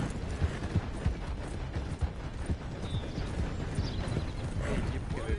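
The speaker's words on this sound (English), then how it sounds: "por isso que já veio meu cavalo" In the Red Dead Redemption 2 video game, a horse arrives with muffled clip-clop hoofbeats and rattling tack under a dense game soundscape, while a person talks over it.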